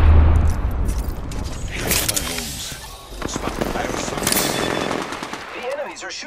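Gunfire in the shooter game Apex Legends, with repeated bursts of shots and booms across the whole stretch, loud and close in a busy mix, while a game voice speaks over it.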